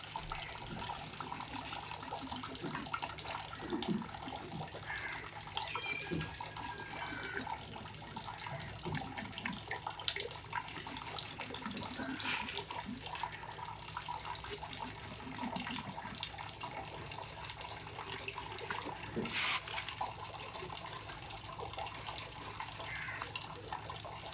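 Tap water runs steadily into a kitchen sink while a cutla fish, scored on both sides for a grill, is rinsed, with faint drips and splashes over a constant low hiss and no talking.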